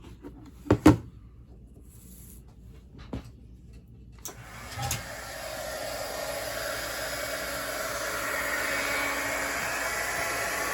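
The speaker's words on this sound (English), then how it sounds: "Cover this up before we start up the heat gun." A heat gun switches on partway through and runs as a steady, loud broadband whoosh, preceded by a few sharp clicks and knocks of setting up.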